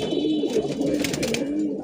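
Male pigeons cooing inside a pigeon loft, a steady overlapping low rolling coo that continues throughout at close range.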